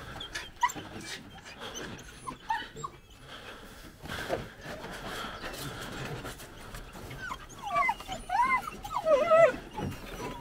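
Puppies whimper and yip in short, high whines while being transported, growing more insistent toward the end, over faint rattling and movement noises.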